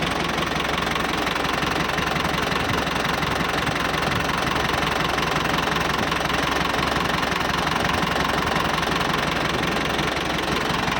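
Yanmar 45 hp tractor engine idling steadily nearby, a continuous loud diesel rumble with a knocking texture that holds unchanged from start to finish, no voices.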